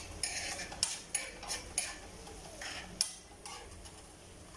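A utensil stirs food in a pan of oil, with irregular close metallic scrapes and clinks against the pan over a faint low sizzle, and no talking.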